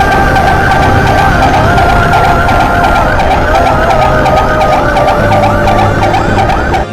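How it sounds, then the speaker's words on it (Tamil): An ambulance siren wails loud and close on a Kollam–Theni national highway near Ponkunnam, Kerala, its rapid warbling tone cycling continuously over road and engine rumble, with no talk. "எதிரே தெரிந்த ஆம்புலன்ஸ்"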